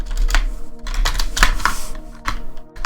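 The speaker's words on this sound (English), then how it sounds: "and type the variable name." Computer keyboard typing in short irregular bursts of key clicks, close and moderately loud, with brief pauses between strokes while entering code.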